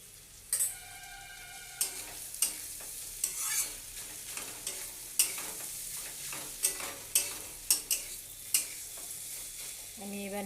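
Ghee goes into a pan of Bengali fig (dumur) curry, bringing a soft frying sizzle broken by repeated scraping strokes of a spoon stirring, close and alone with no talk.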